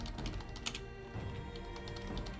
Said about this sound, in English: especially if you can't stand bad typing